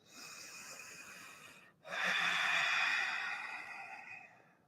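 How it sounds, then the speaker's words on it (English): Slow, audible breaths during a yoga neck-release session: a long steady airy inhale, a brief pause, then a stronger, fuller exhale that gradually fades, close and clear with no talking. "Breathing in and out."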